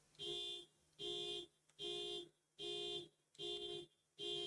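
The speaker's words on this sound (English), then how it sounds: "Can you guys hear that car alarm?" A car alarm sounds in rapid bursts, six loud, evenly spaced honks about every eight-tenths of a second, heard clearly with no talking over it.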